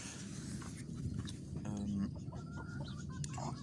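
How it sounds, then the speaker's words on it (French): A rooster's call among four hens clucking softly nearby, over a steady background murmur and a faint voice. "Le coq avec 4 poules."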